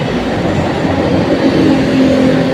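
An MRT-7 rail train at North Avenue station gives a loud, steady rumble with a faint tonal whine, continuous and close throughout, with no voices.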